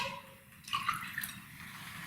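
Water pours into a drinking glass in a quiet room, a soft, brief trickle in the middle of the clip with no one speaking.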